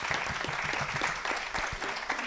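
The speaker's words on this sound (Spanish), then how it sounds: "Un aplauso, por favor" Audience applause at the close of a presentation, dense clapping from many hands with sharp individual claps standing out, sustained and fairly loud from start to finish.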